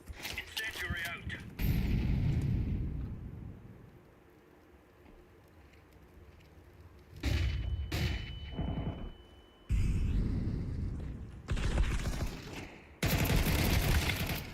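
Incendiary grenade and gunfire in a first-person shooter match, heard as loud bursts of shots and explosive blasts in several clusters, separated by quieter stretches, with voices talking through the action.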